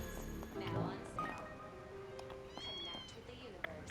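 A cat meows in the game Trails beyond the Horizon, a few soft meows mixed into a busy game soundscape with light clinking tones and background music.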